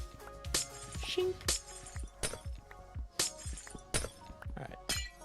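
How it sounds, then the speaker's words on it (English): Glass shattering in Minecraft, a series of sharp crashing breaks repeating roughly every second, each with a bright tinkling tail, over a soft background of game ambience. "Sound of breaking glass."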